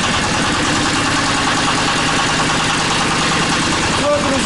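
Heavy TATA diesel walk-behind tractor engine chugging steadily after a hand-crank start, a continuous close, loud rhythmic knock with a brief higher squeak near the end.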